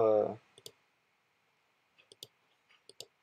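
A computer mouse clicks while lines are selected in pattern-drafting software. A short voice comes first, then sparse, crisp clicks follow, several in quick pairs, close and quiet.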